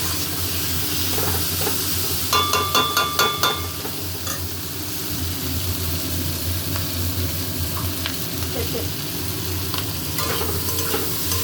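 Spiced food being stir-fried and braised (kosha) in a pan, giving a continuous sizzle and hiss with repeated scraping stirs, a quick burst of clinking strokes early on, and no talking.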